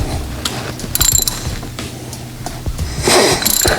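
A wrench turns a nut to draw out a Loctited spacer during a Magnuson TVS2650 supercharger install on a C7 Corvette, giving close, uneven ratcheting clicks and metallic grinding with brief louder bursts.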